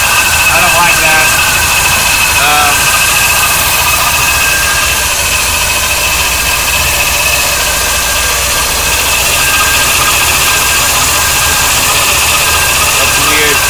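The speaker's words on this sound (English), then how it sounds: "It's running. Hasn't run in a long time." A 1977 C3 Corvette engine idles steadily and loud throughout, a continuous rumble with a constant hum, while people talk nearby.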